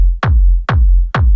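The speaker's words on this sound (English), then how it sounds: "we're gonna listen to the kick by itself" Techno kick drum from a Solid Techno sample pack, played dry without effects: three loud, punchy hits with deep booming low end and a quick bright click, evenly spaced about half a second apart, alone.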